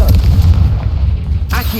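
A Confringo fire spell detonates in Hogwarts Legacy, the game audio giving a loud, rumbling low boom that swells and lingers during ongoing spellcasting combat, with a second burst near the end.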